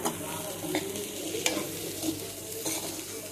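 Egg curry with tender tamarind leaves is stirred and mixed in a frying pan, a close, steady sizzle with soft scraping strokes of the spoon running through the whole stretch, no voices.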